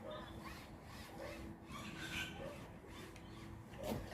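Faint, steady rasping and rubbing as an awning window screen is wiped from the inside of the house, continuing softly throughout against low room noise.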